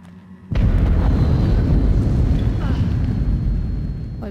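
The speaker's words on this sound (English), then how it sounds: "I bet that was the explosion." Loud explosion in the horror video game Until Dawn, a sudden blast that leaves a dense, rumbling roar lasting several seconds with scattered crackling debris on top.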